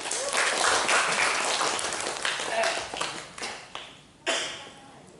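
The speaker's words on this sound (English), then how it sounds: "Give applause." Scattered applause from a small group at a weekly discussion session, starting as a fuller patter that thins into separate claps, then a brief gap followed by one last burst that fades out.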